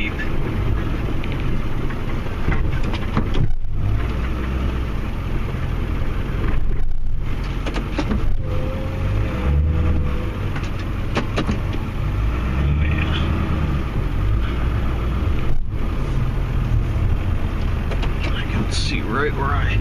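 A vehicle plows snow in a narrow driveway, its engine running steadily and fairly loud throughout with a rumbling low drone, occasional scraping and brief pauses, and a voice talking over it.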